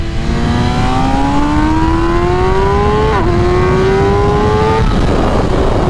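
A 2021 MV Agusta Rush motorcycle with an ECU flash tune, its engine revving hard and loud up through the gears, pitch climbing steadily, dropping sharply at a shift, then climbing again before the revs cut off.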